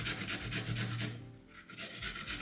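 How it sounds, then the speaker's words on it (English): Fresh ginger, about three inches and peeled, is grated for Jamaican ginger bulla, a rhythmic rasping scrape repeating in quick even strokes, close and fairly quiet, with a short pause midway. "This is about 3 inches of ginger and I'm going to grate this."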